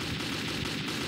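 Rapid gunfire in the video game Metro 2033, a dense, close, continuous rattle of shots lasting about a second.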